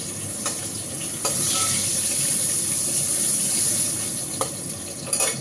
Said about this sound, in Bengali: কড়াই তেল আছে, আমি এইটাতে আলু দিয়ে দেবো।